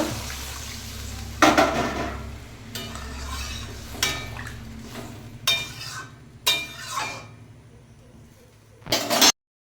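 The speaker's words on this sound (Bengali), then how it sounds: "এবার আমি জল ঢেলে দেবো" Water splashes into a pan of sautéed vegetables for a light tilapia curry, meeting hot oil with a hiss amid scraping stirs and several clinks of utensils against the pan.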